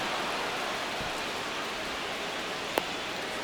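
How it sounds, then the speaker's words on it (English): Rain falls steadily during a baseball game in MLB The Show 26, an even, dense hiss of downpour with a single faint click near the end. "This rain is not letting up."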